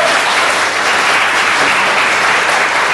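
A studio audience at a televised religious discussion breaks into loud, dense, sustained applause, a continuous wash of clapping with no voices over it.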